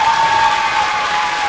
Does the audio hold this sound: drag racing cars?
no